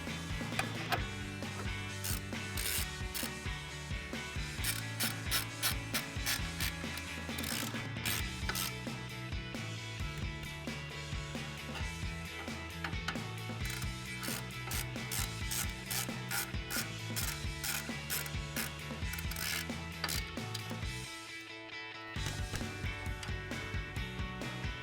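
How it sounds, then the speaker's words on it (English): A hand ratchet clicks rapidly in long repeated bursts as it tightens a bolt on the brake caliper of a 2009-2018 RAM 1500 with a 21mm socket, close and quiet, with one short pause near the end. "now we'll tighten it down using our 21mm socket."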